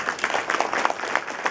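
An audience applauds the guest of honour, Singapore's President Tony Tan Keng Yam, at a formal evening gathering, a brief burst of steady mid-distance clapping from a crowd.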